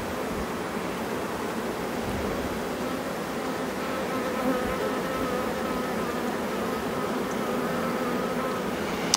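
Honeybees buzz steadily around an open hive during a spring inspection, a dense, continuous drone that stays close and even throughout with no voices.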